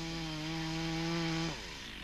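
A chainsaw cuts a directional notch into a standing tree, its engine holding a steady, loud whine that drops in pitch and roughens near the end as the cut finishes.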